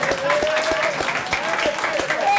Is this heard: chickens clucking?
no